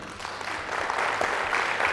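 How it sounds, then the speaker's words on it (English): An audience applauds at an event honoring everyday heroes, a dense, steady wash of clapping that swells slightly and holds for about two seconds with no voices over it. "I think that deserves a round of applause, don't you?"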